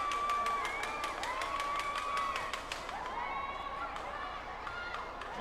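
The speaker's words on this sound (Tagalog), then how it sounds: "And as we can see, this mammoth crowd" A large crowd at a basketball game, a continuous roar of cheering under a commentator's voice, with rhythmic whistle-like tones pulsing through the first few seconds.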